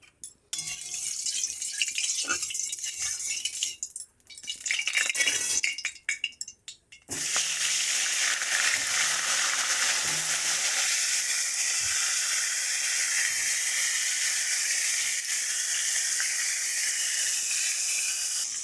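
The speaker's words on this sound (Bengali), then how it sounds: "তেলটা গরম হয়ে গেছে, মাছগুলো সব ভেজে নেবো এর মধ্যে।" Fish frying in hot oil, a loud, steady crackling sizzle close up that runs throughout, after a few utensil clinks and brief gaps at the start.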